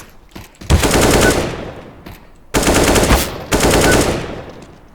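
Loud bursts of rapid automatic gunfire from a shooter video game crossfire, with three dense volleys separated by short pauses and no talking.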